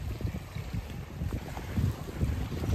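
A boat carries passengers out to sea off Mauritius for an underwater scooter dive. A constant low engine rumble mixes with buffeting wind noise on the microphone, steady and close throughout, with no talking.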